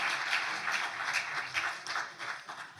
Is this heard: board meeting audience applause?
yes